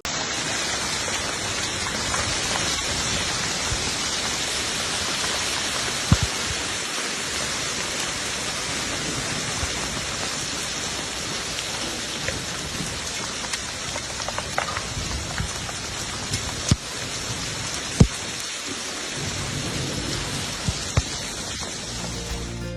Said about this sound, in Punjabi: ਕਈ ਥਾਵਾਂ ਤੇ ਹਲਕੀ ਤੋਂ ਭਾਰੀ ਗੜੇਮਾਰੀ ਦਰਜ ਕੀਤੀ ਗਈ